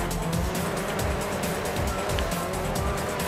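Karts drifting in Sonic All Stars Racing Transformed, engines roaring loud and steady with tire squeal and skidding layered over the racing noise.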